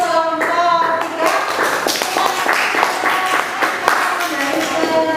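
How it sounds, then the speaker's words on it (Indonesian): A classroom group of students applauds group 3 after a history discussion, a dense burst of close, continuous hand clapping lasting throughout with faint voices mixed in. "Kita beri aplaus untuk kelompok 3."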